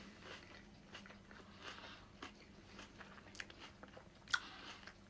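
Crunchy smoky paprika snack being eaten up close, quiet irregular bites and crunching with soft chewing between them, no talking.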